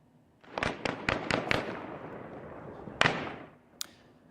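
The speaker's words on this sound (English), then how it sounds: "That is gunfire heard as assailants stormed the legislature in Tehran, armed with assault rifles and explosives." A rapid series of sharp assault-rifle cracks as attackers storm the legislature in Tehran, several shots in quick succession, then a pause and two more bursts, echoing in the distance.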